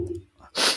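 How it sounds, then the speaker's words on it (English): A person gives a single short, sharp sneeze, sudden and close, after a brief voiced intake. "I'm sneezing."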